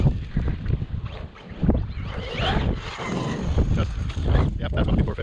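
Strong wind blows outdoors across the microphone, a steady rushing roar with gusty swells and low rumble throughout, near and loud with no talk.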